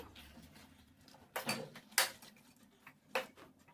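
Palak paneer manchurian stirred in a pan: a few scattered scrapes and clatters of a spoon against the pan, soft and fairly close, with quiet gaps between strokes and no talking.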